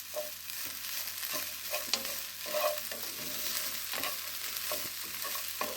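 Curry leaves sizzle in hot oil for a Gongura, urad dal and pumpkin pulusu, a steady close hiss with scattered crackles and pops and light stirring scrapes, no voices.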